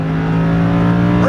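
A Lamborghini Huracan LP610-4 on a Las Vegas track under throttle, its engine holding a loud, steady harmonic drone close by, with a faint rise in pitch at the very end.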